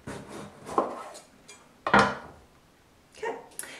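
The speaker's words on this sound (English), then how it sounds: "And then just slice it right down the middle." A knife cuts down through a delicata squash on a kitchen board with two or three short, sharp thunks and cracks, separated by pauses, close and fairly loud with no talking.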